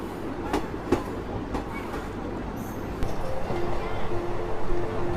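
An Indian passenger train heard from inside a general class carriage rumbles steadily along the rails, with wheel clicks and clatter and a rising roar; voices murmur in the background.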